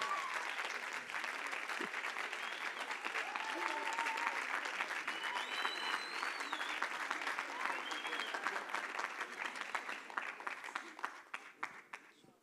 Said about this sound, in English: I would like us to give him a clap and, you know, a round of applause, a warm welcome as he ascends